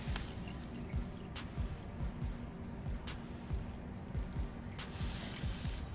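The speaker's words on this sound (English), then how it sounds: "we're going to squeeze it through the cheesecloth to just get every last drop out of there." A hash mixture squeezed through cheesecloth, with soft wet squishing and a steady series of drips falling into liquid below, close and quiet, without talking.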